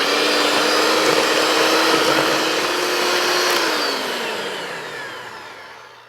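An electric hand mixer whirs steadily through banana muffin batter with freshly cracked eggs, a loud close motor drone that holds its pitch, then slows and winds down near the end.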